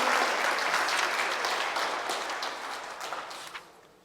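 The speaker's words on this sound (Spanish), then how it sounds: "ese fue su mejor aplauso" A church congregation gives sustained applause that stays full and even, then gradually fades toward the end.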